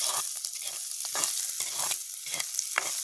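Onion, garlic and chili sauté in a pan in a village kitchen: a continuous close hiss of frying broken by regular scraping strokes of a spoon roughly every half second.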